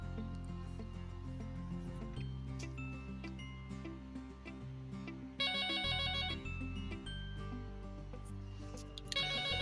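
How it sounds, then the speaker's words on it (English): An intercom phone rings with an incoming call, two bright electronic ring bursts rising over a steady tonal background hum. "The call is coming in and out, and the phone is ringing the way it ought to ring"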